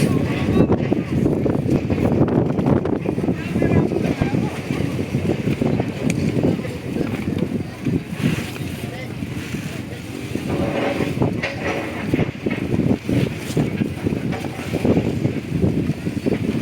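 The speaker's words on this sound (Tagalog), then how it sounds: "lakas ng hangin" Strong wind roars and buffets steadily against the microphone at a fishing pier in Dinahican, with a rumbling engine-like background and no clear pauses.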